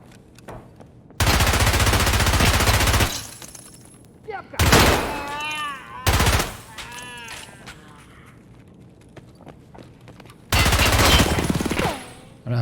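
Loud automatic gunfire from the video game Rainbow Six rattles in long sustained bursts with shorter volleys between them, while voices talk in the gaps.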